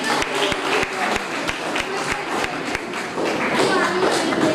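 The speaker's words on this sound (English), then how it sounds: "Parents, let's welcome them with a huge round of applause." Parents in the audience at a school literature festival character parade give a round of applause, a scattered crowd clapping with some distinct close claps and general hall noise, with voices mixed in.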